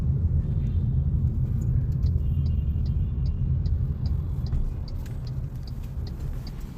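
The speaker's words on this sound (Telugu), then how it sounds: "Full traffic. అస్సలు ఎందుకు హెవీ ఏమంటారు సాయి వాటిని, లారీ ట్రక్స్ అవన్నీ ఫుల్ అయిపోయాయి." Heavy road traffic with lorries and trucks, a constant low engine rumble and passing vehicle roar that stays loud and close, easing slightly toward the end, with faint high tones above.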